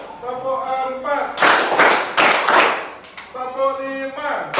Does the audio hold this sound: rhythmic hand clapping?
yes